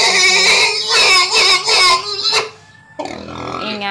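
A Large White gilt on a farm lets out loud, shrill squeals close by in several bursts, with a brief quieter gap before a final squeal.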